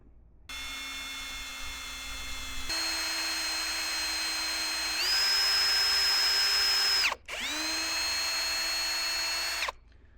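A power drill bores a pilot hole with a fat pilot bit into a firewood shed roof, a loud steady whine that steps up in pitch, pauses briefly, then spins up again before stopping.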